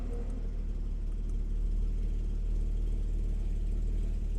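A 2016 Porsche Boxster Black Edition with a 6-speed manual idles nearby, a steady low throaty rumble holding an even pulse throughout with no talk.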